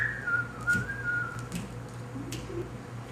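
A pastor whistles a catchy melody, a clear sustained tone at first that gives way to short fainter chirps, heard alone and fairly close.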